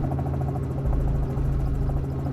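A helicopter flies over gas and oil extraction sites, its rotor giving a steady, loud, rhythmic thumping drone throughout with no talk.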